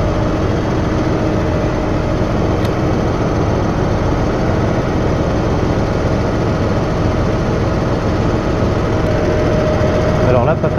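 A farm tractor engine runs steadily and loudly throughout while it is readied for sowing wheat, a continuous low rumble with no breaks.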